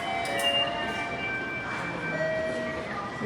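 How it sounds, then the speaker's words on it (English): A train at Narita station in Japan, a steady rumbling rail hum with thin tonal whines and squeals rising and fading over it, close and continuous with no talk. "We're taking this train."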